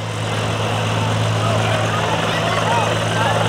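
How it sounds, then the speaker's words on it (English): A flight care helicopter takes off at Lancaster Airport during a rotor event, its engine and rotor making a loud, steady droning hum with a constant low tone, heard close throughout. "Taking off there is the flight care helicopter."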